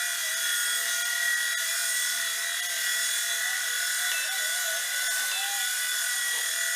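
A 4-channel RC helicopter spins in place under added throttle, giving a steady high-pitched whining rotor and motor drone with slight pitch shifts, close and continuous throughout.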